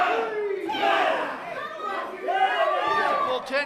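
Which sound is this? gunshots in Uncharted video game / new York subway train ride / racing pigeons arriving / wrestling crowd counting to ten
wrestling crowd counting to ten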